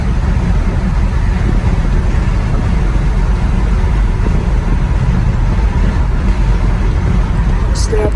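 Engine and road noise from a 1959 Chevrolet Apache truck on a drive, heard from inside the cab as a loud, steady rumble with a low drone throughout and a voice talking over it.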